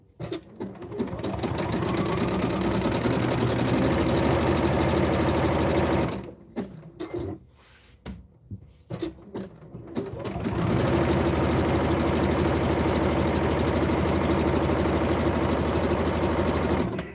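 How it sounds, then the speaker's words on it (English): A sewing machine straight-stitches a logo onto wrestling tights, whirring in a steady, close, rapid hum that breaks off midway for a few seconds of quieter handling, then runs again. "get this other logo here sewn down and stitched"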